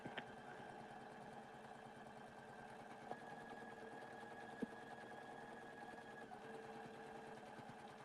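An embroidery machine runs a placement stitch with a steady, fast mechanical whir and needle clatter, with a couple of faint clicks along the way and no talk.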